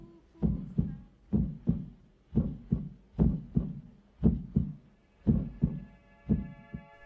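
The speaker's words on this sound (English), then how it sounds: "they may remember the sound of their heartbeat" A slow, regular heartbeat thumps in paired beats, about a dozen deep throbs in steady rhythm, with a faint tone entering near the end.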